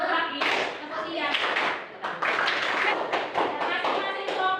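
A class of children claps along to a rhythmic clapping chant, a dense run of quick, loud, close hand claps that continues almost without pause, with young voices mixed into the clapping.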